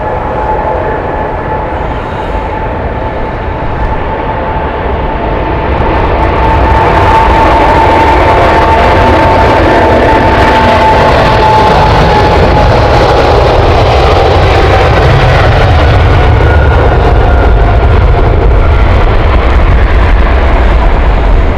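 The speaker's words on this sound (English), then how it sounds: "But here she goes, beautiful aircraft, already taking off." A Boeing 777-300 airliner takes off at Heathrow Airport, its jet engines building into a loud, sustained roar that swells after a few seconds and holds steady throughout, with no voices.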